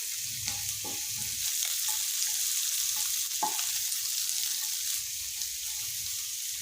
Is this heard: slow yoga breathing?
no